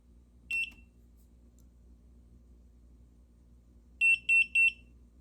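A GVDA GD168B clamp meter gives one short high beep on power-up, then three quick beeps in a row during its self-calibration, clear and close over a faint hum.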